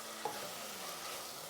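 Onions and meat sizzle and fry in a pan, a steady low hiss of frying with a faint stir or clink near the start and no voices.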